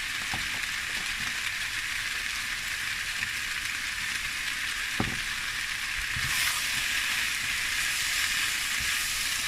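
Chicken and black mushrooms sizzle loudly and steadily in a hot pan, broad and hissing, with a few clicks and scrapes of stirring and a swell in the sizzle near the end.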